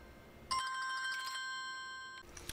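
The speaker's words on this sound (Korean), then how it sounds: "전화가 와가지고" A phone rings with an incoming call, a close electronic ringtone starting abruptly and holding a steady tonal melody for under two seconds before cutting off, followed by faint handling clicks and no speech.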